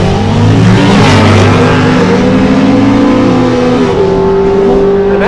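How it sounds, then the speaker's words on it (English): A 1984 Mustang with a 140 cubic inch 4-cylinder drag racing in Super M stick class, a loud close engine roaring and revving hard, the pitch shifting through gears and then holding as it pulls away. "84 Mustang, running in Super M stick. 140 cubic inch 4-cylinder."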